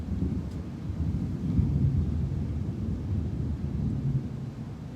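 Low, steady rumble of thunder from a lightning strike in a storm over a beach, rolling on for several seconds with wind noise and no voices.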